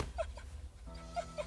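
A cartoon dog whimpers in soft high yips, a few short whines spaced across the moment, close by with faint background ambience.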